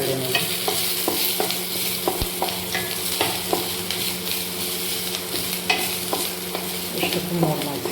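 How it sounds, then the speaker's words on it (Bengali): Ridge gourd and potatoes frying in oil in a wok, with a steady sizzle broken by repeated scraping and clinking stirs of a spatula, close and fairly loud, with no talk. "হালকা বেড়ে নেব।"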